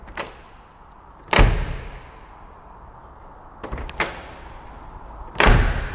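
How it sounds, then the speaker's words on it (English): The heavy metal door of a 1958 Cadillac de Ville is shut and opened several times, giving loud solid thuds with a metallic ring and quiet gaps between them. "There's this strong metallic sound, and the door is rather heavy."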